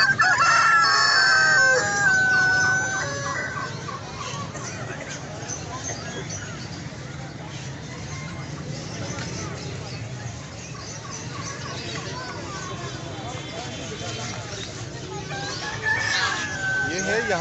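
A rooster crows loudly at the start, then the crowing fades into background clucking and murmuring voices at the busy outdoor Saddar Sunday pet market.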